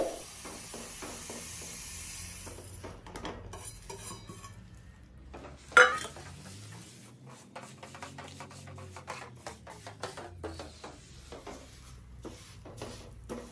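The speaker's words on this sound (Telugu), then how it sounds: "నువ్వులంతా బాగా కలిసిపోయేలా కలుపుకోవాలి." Sesame seeds are stirred into thick, melted jaggery syrup in a pan for laddus, giving a steady, close scraping and sticky churning texture with one sharper knock of the spoon midway and no talking.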